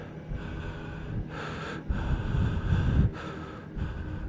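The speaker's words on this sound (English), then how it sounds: "I can hear someone breathing heavily." Heavy, close breathing with gasps and snort-like inhales over a low ambient drone in the horror visual novel World End Syndrome, swelling louder midway before easing off.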